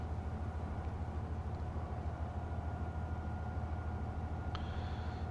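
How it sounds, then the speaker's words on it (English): Train from the Train Life railway simulator shifting onto the next track, a steady low rumble and hum of rolling stock with a faint high tonal squeal near the end. "So yeah, the train's actually moved over"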